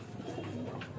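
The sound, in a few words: Andhra pigeon cooing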